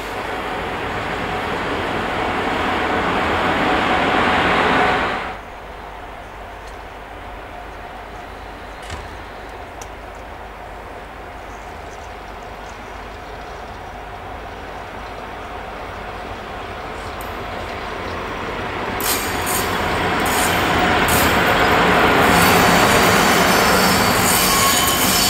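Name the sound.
DB class 103 electric locomotive leaving the museum stage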